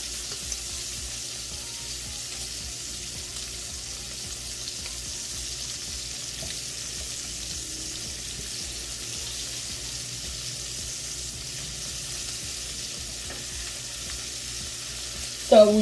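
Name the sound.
sausages sizzling in a pan as they are flipped over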